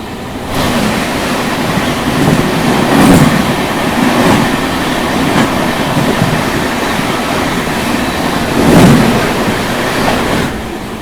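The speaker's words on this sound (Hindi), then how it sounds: "तो खैर अभी देखो सामने से आ रही है क्रॉसिंग के लिए पूजा" The Pooja Superfast Express passing at a crossing near Rewari, heard from aboard another train as a loud, steady roar with rhythmic wheel thumps and swells of rushing noise, no voices.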